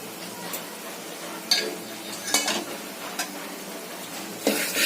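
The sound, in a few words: ground masala paste being sautéed and stirred in a pan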